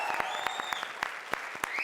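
Studio audience on a Hindi comedy show claps for performers, a brief burst of close, sharp, uneven hand claps with a few loud individual slaps standing out over the dense patter.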